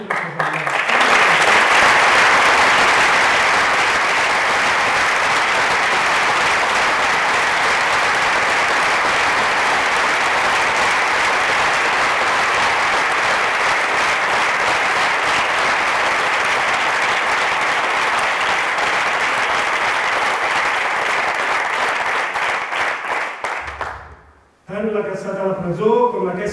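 A congress hall crowd at a Catalan trade union closing session applauds in solidarity with imprisoned people, loud sustained clapping for over twenty seconds before it cuts off and talk resumes briefly.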